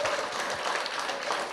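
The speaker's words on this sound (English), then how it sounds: "Please give her a round of applause." Audience applauding a prize winner at an education event, a steady dense wash of clapping held at an even level throughout.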